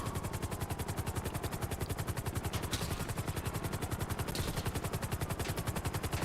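Helicopter rotor chop pulses steadily in the GTA 5 Online video game, with rapid automatic gunfire bursts layered over the beating blades, loud and continuous with no talk.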